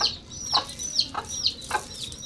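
Chickens and chicks at a home in a rural village cluck nearby, with repeated short clucks and high chirps in a loose, steady rhythm.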